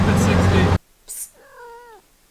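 A cat gives a single drawn-out meow at moderate volume, heard just after a loud burst of rushing noise abruptly cuts off.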